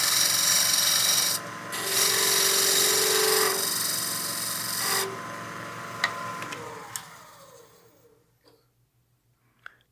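A wood lathe spins a wooden block head while a tool scrapes down its bottom tenon, a steady rasping cut with brief pauses, then the lathe winds down to near silence with a few faint clicks, no talking.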